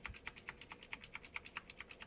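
Steady typing on an old PC keyboard, about a dozen crisp key clicks falling in a quick, fairly even rhythm, close and fairly quiet, with no talking.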